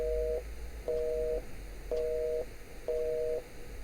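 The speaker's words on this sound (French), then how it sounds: "Ah, non, c'est le téléphone." A telephone busy signal sounds in the haunted-hotel video game Hotel Greenwood: four evenly spaced, steady two-tone beeps repeating at a regular pace over a low background hum, with no talking.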